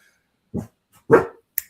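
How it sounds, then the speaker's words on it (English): Indoor dogs bark twice, short sharp close barks separated by a pause, followed by a faint click, otherwise quiet. "sorry, my dogs are freaking out."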